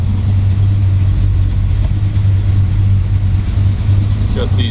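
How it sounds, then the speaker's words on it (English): A 383 stroker V8 in a 1935 Ford Deluxe rumble seat roadster runs loud and close with a deep steady rumble and slight revving throughout. "Very healthy 383 stroker."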